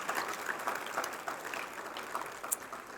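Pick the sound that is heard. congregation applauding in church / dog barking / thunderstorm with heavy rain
congregation applauding in church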